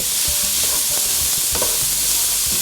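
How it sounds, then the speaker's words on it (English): Onions with pork bits sizzling loudly in a pan for chile verde pork stew, a steady, close frying hiss with soft scraping thumps as they are stirred. "And you're going to see as I stir it, the onions will start to turn a little brown right away."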